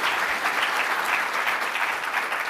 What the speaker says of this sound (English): So let's give them a round of applause for all that.